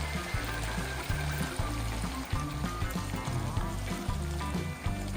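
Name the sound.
pouring water into cooking pot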